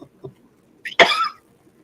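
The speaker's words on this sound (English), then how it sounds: "It makes you cough." A couple of soft throat sounds lead into one sharp, close cough, then quiet.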